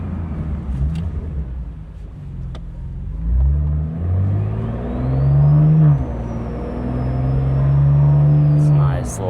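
A 700 hp BMW M2 G87 fitted with a 4-inch downpipe revs up and down through a deep, rumbling exhaust. The nearby rise and fall of the engine note swells over a low background.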